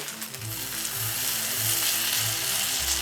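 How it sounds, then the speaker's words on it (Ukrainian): Steady sizzling of potato pancakes frying in a hot pan over medium heat, a continuous bright crackle with a faint low rhythmic thump underneath. "Смажимо дируни з кожного боку на середньому вогні до золотистості"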